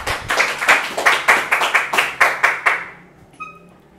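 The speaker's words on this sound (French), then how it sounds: "Applaudis frère V." A church congregation claps in a quick, steady rhythm, about a dozen sharp, fairly loud claps that end abruptly. A faint sustained tone follows.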